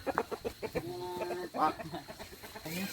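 A rooster and hens on a village farm clucking in quick close bursts, with one drawn-out call near the middle, while a person talks briefly in the background.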